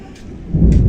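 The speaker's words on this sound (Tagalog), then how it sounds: "kulog, tsaka kidlat" A deep, close thunder rumble swells in a rainstorm over a rural farm area, rising loud in the second half over a hiss of rain, all within under a second.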